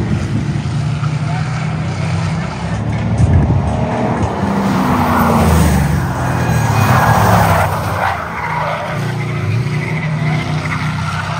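A race car at Freedom 500 practice accelerates hard, its engine roaring loud and sustained with a rising, shifting pitch throughout, while voices talk underneath.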